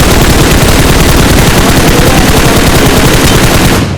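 Sustained rapid gunfire in a shooting video game, a loud continuous automatic burst filling the whole moment with no pause until it cuts off at the end.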